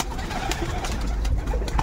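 Armenian Oktemberyan Gareviz pigeons with marbled necks coo softly in a loft, low murmuring calls close by under steady background noise.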